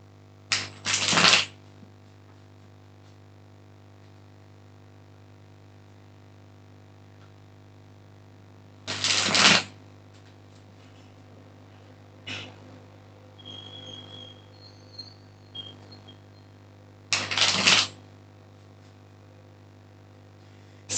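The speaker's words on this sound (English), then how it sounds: "And of course then shuffling." A deck of tarot cards is shuffled by hand at close range, giving three short crisp riffling bursts spaced several seconds apart. Softer card handling falls between them over a low steady hum, and no one speaks.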